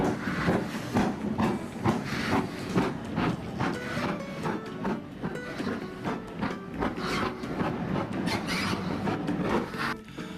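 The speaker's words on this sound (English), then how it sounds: "the Lydham Manor locomotive goes to the head of the train for our adventure to Paignton" Steam locomotive Lydham Manor on a heritage railway to Paignton on the English Riviera, a steady rhythmic chuffing and clattering of wheels and rods, loud and continuous throughout.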